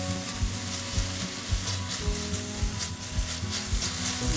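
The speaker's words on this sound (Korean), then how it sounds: "이제 이렇게 쇠고기까지 다 볶았어요." Thin strips of beef seasoned with bulgogi marinade stir-fry in a pan without oil for Korean wolgwachae, sizzling steadily and close, with regular scraping stirs that tick through the crackle.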